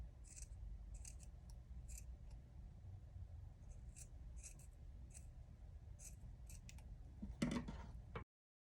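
Scissors trimming the fringe of macrame rainbow earrings, a series of soft, close snips spaced about every half second over faint background hiss, ending in a slightly louder cut.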